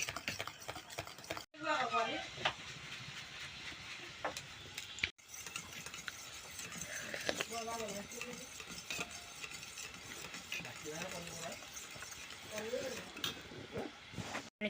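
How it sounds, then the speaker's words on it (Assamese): A spoon beats egg in a bowl, making quick, steady scraping and clinking strokes that continue throughout, broken by two brief pauses, while a person talks over the whisking. "মই চামুচে কৰি লৈছোঁ এনেকৈ ফেটিব লাগিব"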